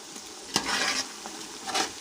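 Onion sizzles in a pan while a utensil stirs it, giving a couple of sharp scrapes over a soft, steady frying hiss.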